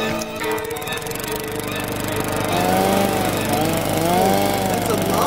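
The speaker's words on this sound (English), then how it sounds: "That's a lawnmower." A lawn mower engine drones loudly and continuously, a rough buzzing roar that swells slightly partway through while a warbling, wavering tone, like a squealing animal or whistle, rises over it.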